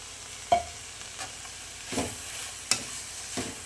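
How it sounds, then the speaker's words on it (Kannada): Flattened rice (poha) being added to a pan and stirred with a spatula, a few soft scraping knocks and light rustles at irregular intervals, quiet and close with a faint sizzle underneath. "ಅವಲಕ್ಕಿ ಹಾಕಿ ಚೆನ್ನಾಗಿ ಈ ಥರ ಮಿಕ್ಸ್ ಮಾಡ್ಕೋಬೇಕು"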